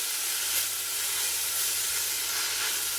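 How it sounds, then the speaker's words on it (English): Two sliced large onions frying in half a cup of oil in a pot give off a steady, even sizzle and hiss, with no talk and no breaks. "Add half a cup of oil to the pot, where 2 sliced large onions eagerly await their transformation into"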